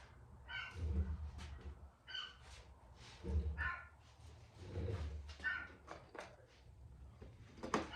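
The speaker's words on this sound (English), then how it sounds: "Y'all overlook my stupid dogs. They never shut up." Several dogs bark and yip repeatedly in bursts throughout, fairly close, over a low background rumble in a garage or workshop during repairs on a 1977 Honda GL1100.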